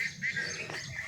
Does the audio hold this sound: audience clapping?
no